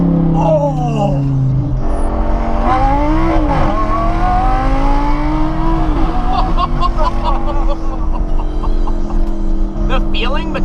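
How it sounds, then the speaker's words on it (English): A Lamborghini LP560 with a V10 engine revs hard and accelerates through gear changes, loud and close, its rising and falling engine tones filling the whole stretch while people talk over it. "Best part of these cars has to be that V10 sound"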